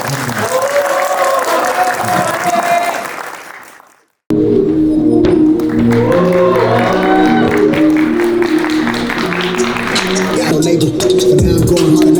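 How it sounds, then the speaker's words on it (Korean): A studio audience at a Korean esports broadcast applauds loudly and steadily. The clapping fades out to silence, then resumes abruptly at full strength with cheering and whoops, under the hubbub of a large live crowd. "박수 한번 부탁드리겠습니다."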